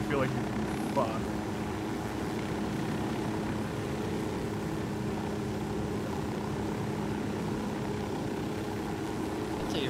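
A helicopter in Ghost Recon Wildlands gives a steady, droning rotor and engine roar with constant loudness throughout, while players talk over it.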